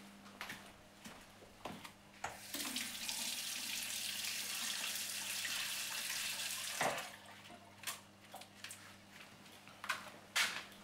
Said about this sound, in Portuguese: lavam bem a parte superior do alho francês. Passar bem por água.